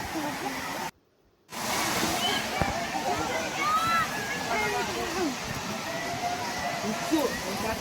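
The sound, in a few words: waterfall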